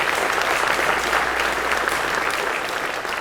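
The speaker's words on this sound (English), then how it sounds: "Let's give Cuz another round of applause." Audience at an outdoors hall of fame induction ceremony applauds steadily, a dense, even round of clapping in a large room that holds for the full duration.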